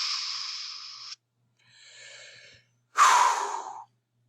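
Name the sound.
person breathing out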